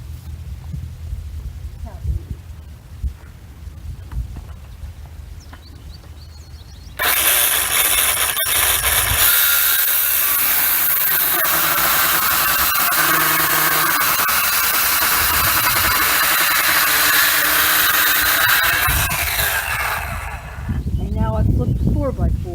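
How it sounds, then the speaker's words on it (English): A circular saw cuts through a 4x4 wood post, a loud continuous roar lasting about thirteen seconds, with someone talking before and after the cut. "So I'm going to show you how I go about cutting 4x4s with a circular saw."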